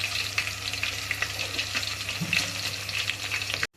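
Onions and whole spices deep frying in oil for Kolhapuri mutton give a steady, close sizzle with crackling pops throughout, then stop abruptly just before the end.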